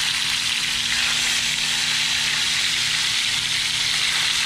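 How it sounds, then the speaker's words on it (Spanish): Red snapper sears in hot oil for a quick seal, a dense, even sizzle holding steady and loud from start to finish with no voices. "Vamos a empezar a meter el pescado y lo vamos a empezar a sellar."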